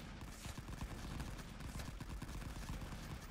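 Scattered rifle and machine gun fire from soldiers charging across a World War I trench battlefield in Rising Front, a constant distant crackle of many overlapping shots.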